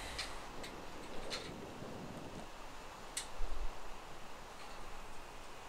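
Gusting wind in the blocky survival world of Minecraft, a faint steady rush with occasional soft ticks and clicks, heard alone without talk.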